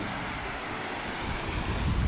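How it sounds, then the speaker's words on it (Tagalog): Steady rush of sea surf with wind buffeting the microphone, a continuous roar that swells slightly louder toward the end. "Doon malakas yung alon."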